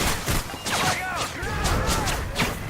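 Gunfire in Modern Warfare 3 cracks in rapid bursts and scattered shots during multiplayer play, with ricochet-like whines and thuds, while voices call out over the action.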